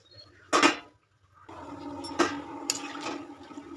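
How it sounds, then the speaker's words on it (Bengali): Water is poured into a pan of soybean, potol and potato curry: a short splash, a pause, then a longer steady pour with a few louder sloshes, close and unaccompanied by speech. "আর একটু জল দেবো।"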